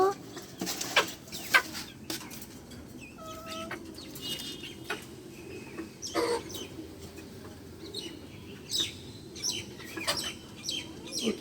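Chickens cluck in a home setting, including a sick red hen on an upper shelf, giving scattered short clucks and calls of varying loudness, some wing flutters, over a soft background hum.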